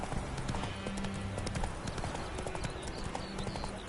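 Hooves of Roach, Geralt's horse in The Witcher 3, clip-clop in a quick, steady galloping rhythm over a continuous game ambience, the horse close and clearly audible throughout.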